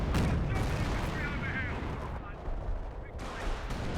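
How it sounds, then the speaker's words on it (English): Mortar and artillery fire in Company of Heroes pound away in a rapid string of close, loud blasts and cracks, with a voice talking over the barrage. "Oh, mortar, artillery."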